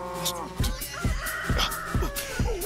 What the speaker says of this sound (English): Why is there a cow? What's going on? The chickens.